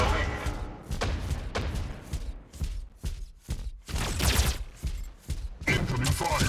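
Mech gunfire in the video game Mech Arena, a control point clash: heavy bursts of rapid fire and thuds in short repeated volleys with gaps, loud and close, with game voice callouts mixed in.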